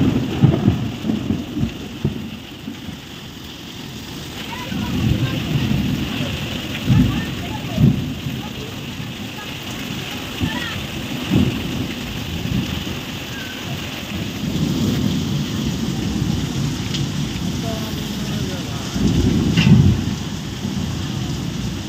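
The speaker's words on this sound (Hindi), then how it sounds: "इतना तेज़ बारिश" Steady heavy rain pours throughout, a dense roar with occasional low rumbles of thunder swelling and fading in the background.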